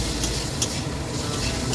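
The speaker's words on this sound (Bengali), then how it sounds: "এটা বারবার করে নেড়ে নেড়ে এটাকে ইসে করতে হবে, ভাজা ভাজা করতে হবে।" Vegetables for khichuri stirred and fried in a pan, a loud, dense, continuous sizzle with scraping stirs close up, no speech.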